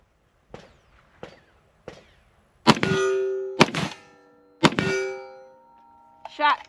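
An AR-15 rifle chambered in 7.62x39 fires three loud, sharp shots about a second apart, each followed by a ringing metallic tone, after a few faint clicks and handling sounds.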